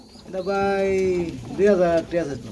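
Soft, throaty pigeon coos close by, a long rolling call followed by two shorter ones.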